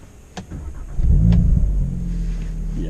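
A 2018 Audi S3's engine cranks and catches with a loud low roar, then settles into a steady idle, heard from inside the car with no talking.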